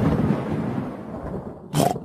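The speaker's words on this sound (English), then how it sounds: "The thunderstorm is going away." A cartoon thunderstorm gives a low, rolling rumble of thunder that fades, followed by a short, sharp burst of thunder near the end.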